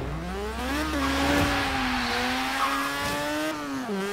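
A turbocharged Mazda RX-7 in the racing game Forza, accelerating over a mile: a loud, continuous rotary engine whine that climbs in pitch, dips at gear shifts and climbs again.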